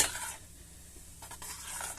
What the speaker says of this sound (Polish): Wymieszajmy te wszystkie składniki ze sobą.